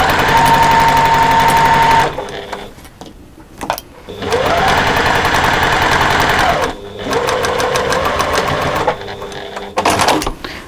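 A loud, close sewing machine stitches a half-inch seam on a beach bag in two long continuous runs separated by a brief stop, with a short final burst.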